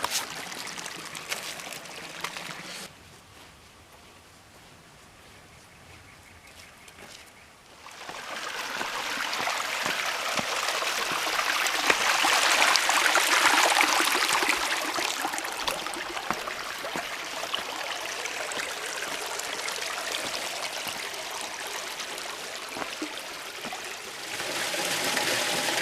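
A creek runs through the bottom of a desert canyon, a soft trickle at first, then louder, close rushing water over rocks that keeps up steadily to the end.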